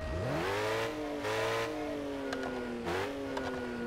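Car engine revving in the mobile driving game Car Parking Multiplayer, fitted with the 10,000 engine, rising in pitch and holding a steady strained whine, with a brief dip and re-rev near the end; loud and alone.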